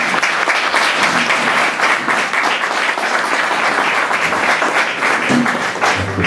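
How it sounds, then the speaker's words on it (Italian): Dense audience applause at an award ceremony in Reggio Calabria, a steady wash of many hands clapping close by for the whole stretch with no break. "Un applauso da qui."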